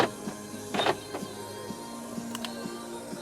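Central locking on a 2012 BMW 640i Gran Coupe actuates with a few sharp mechanical clunks and short whirring bursts inside the quiet cabin, heard close with no talk.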